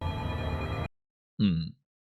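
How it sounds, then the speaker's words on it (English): A telephone bell rings in a steady, buzzing burst that stops abruptly, followed after a short silence by a brief low grunt-like sound. "I wonder if this is the phone that was going off in the meeting."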